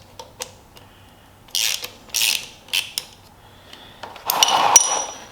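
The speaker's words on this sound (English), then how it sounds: "just removing these 2 little 8mm screws" A ratchet wrench removes two small 8mm screws from a cover on a Honda CRF450L motorcycle during an oil change: sparse close clicks and taps, then short bursts of ratcheting, ending in a longer rattling run.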